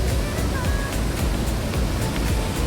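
Water rushes through the partly opened gates of the Tarafeni barrage, a loud, steady broadband roar with faint wind, continuous throughout and no voices over it.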